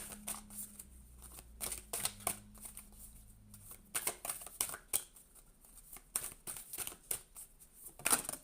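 Playing cards are shuffled close by in a quiet room, a series of quick riffling bursts and soft flicks with short pauses between them.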